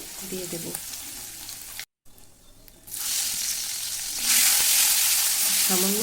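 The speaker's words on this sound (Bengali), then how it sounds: "এক চামচ জিরের গুঁড়ো আর হাফ চামচ মতন হলুদ আর পরিমাণ মতন নুন দিয়ে মশলাটাকে ভালো করে কষিয়ে নিতে হবে" Spice masala of cumin powder, turmeric, salt and tomato frying in a pan for dalia khichuri, a soft sizzle interrupted by a brief gap, then a louder, hissing fry as ingredients hit the hot oil.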